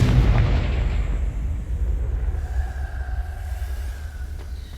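A Confringo blasting spell detonates in Hogwarts Legacy, a heavy, rumbling boom that fills the whole moment and slowly tails off without fading away.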